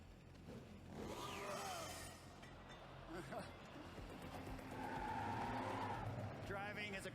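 In a zombie survival video game, a car drives with revving engine and tire squeals as it skids, a steady mid-loud game mix running for several seconds.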